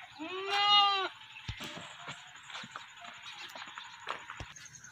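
Desi goats bleat in a full, wavering cry up close, followed by scattered knocks, shuffles and faint farmyard sounds.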